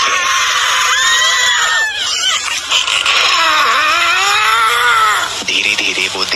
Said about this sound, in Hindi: उसके बाद ही बहरा कर देने वाली उनकी तेज और ऊंची चीखें